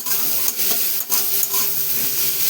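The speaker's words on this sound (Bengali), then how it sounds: "তেলের মধ্যে কড়াই তেল দিলেও ফাটতে শুরু করে দেয়।" Green chillies and onion sizzle and spatter in hot oil in a kadai, with a dense crackling hiss and sharp pops up close, and no voices.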